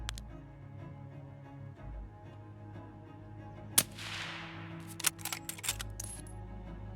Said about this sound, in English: I missed the shot again